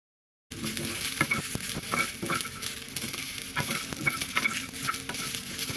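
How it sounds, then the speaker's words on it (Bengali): Green peas and two green chilies fry in a little oil in a pan. A steady soft sizzle runs under frequent scraping stir strokes, close and moderately quiet, starting after a brief silence. "মটরশুঁটি আর মরিচ সামান্য একটু তেলে নরম করে নেব।"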